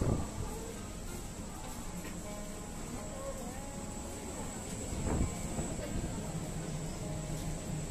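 A Jakarta commuter train carriage in motion gives a steady rumble and rolling drone with a constant high whine and occasional squeals, a continuous interior sound.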